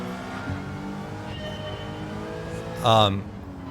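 A car engine hums and shifts pitch while driving in Gran Turismo 7 on PlayStation VR2, steady tones rising through gears with a brief louder rev near the end.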